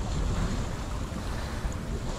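Sea surf in Hellblade: Senua's Sacrifice, a soft continuous wash of waves and wind rumbling faintly along the shore, with no voices.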